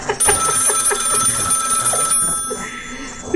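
A phone booth telephone ringing in a horror video game, with a loud, rapid electronic trill repeating for about two seconds before stopping, leaving a low background hum.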